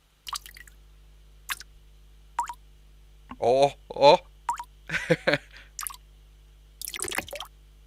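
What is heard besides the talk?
recorded samples of dripping water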